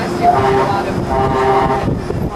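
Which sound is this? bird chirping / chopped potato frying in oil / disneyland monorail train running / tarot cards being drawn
disneyland monorail train running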